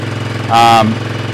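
Engine of a cheap used vehicle bought off Marketplace, idling a little high: a steady pulsing idle rhythm with a brief rise in revs midway that settles back, close and loud, no talk.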